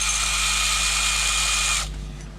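A power drill runs steadily at high speed during a pulley change on a Ford Mondeo, a close, continuous whine that cuts out near the end and leaves a fading hum.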